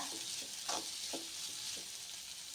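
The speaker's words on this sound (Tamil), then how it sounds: "வெங்காயம் ஒரு அளவுக்கு வதக்கிக்கலாம் ரொம்ப வதம் தேவையில்லை" Sliced large onions sauté in hot oil in a pan for a pearl millet adai, giving a steady close sizzle broken by a few soft spatula scrapes and stirs.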